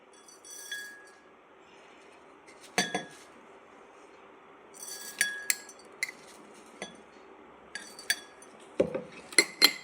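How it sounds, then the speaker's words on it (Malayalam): Roasted flattened rice and mashed banana being mixed in a bowl, with a spoon clinking against the dish in scattered, fairly quiet taps and scrapes that cluster more densely toward the end. "ഇനി നമുക്ക് എല്ലാം മിക്സ് ചെയ്യാം. ആദ്യം വറുത്ത അവല് കുറച്ചിടണം."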